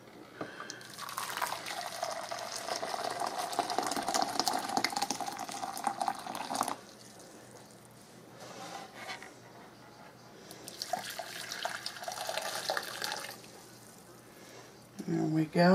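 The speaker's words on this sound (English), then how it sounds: "I'm going to add 2 cups of hot water." Hot water, two cups, poured from a kettle or jug into a mixing bowl while baking a lime cake: a bright splashing pour that runs for several seconds, pauses, then a second shorter pour follows, with a clunk at the end.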